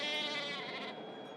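A goat bleats once in a wavering, drawn-out cry that fades toward the end, heard alone at a moderate distance with no talking.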